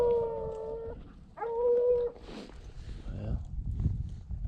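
Hunting dogs trailing a mountain lion across dry desert rock piles give two long, clear howls up close, followed by rustling movement and scattered noise.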